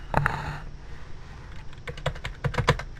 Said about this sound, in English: we're going to type in the word font